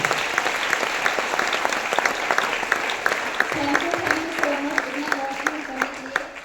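Audience applause at a car achievement recognition event honouring a platinum-level achiever: steady dense clapping throughout, with a few louder individual claps, and a voice beginning to speak over it in the second half.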